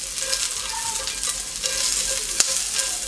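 Diced onions stir-fry in a pan over high heat, a loud steady sizzle and crackle with faint scraping of stirring and one sharp pop near the end, no voices.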